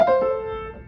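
A single bright ocarina note sounds from a melody played very fast, close and clear, then fades within a second.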